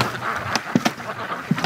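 Free-range ducks give a few short, scattered quacks close by in quiet outdoor surroundings, each call brief and distinct.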